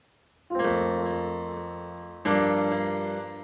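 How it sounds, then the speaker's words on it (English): Two rich piano chords are struck, the notes rolled quickly downward, each left ringing and fading, with a short pause between them. "it's like a roll. It's like a mini arpeggio, but it goes top to bottom"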